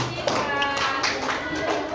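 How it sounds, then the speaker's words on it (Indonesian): Classroom of students clapping hands together in applause, a dense patter of claps filling the room at close range, with faint voices in the background. "Oke, tepuk tangan."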